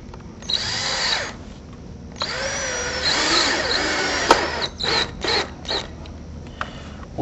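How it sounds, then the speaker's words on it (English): A power drill drives screws through pre-drilled holes into a wooden shutter deco frame and T-post, with several whirring bursts of varying length, close and loud, separated by short pauses. "Again, placing the screw in the pre-drilled holes."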